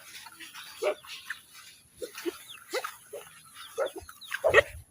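Dogs on a remote river island give a string of short barks, whimpers and grunts, some near and some farther off, rising in a louder cluster toward the end, with no talking.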